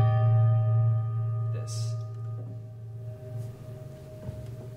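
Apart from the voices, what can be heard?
prepared piano strings with brass screws between them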